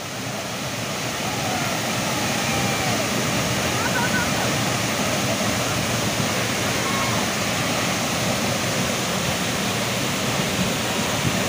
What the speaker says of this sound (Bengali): তো এই হচ্ছে মৃদুবন্ধা ওয়াটারফল, আপনারা দেখলেন।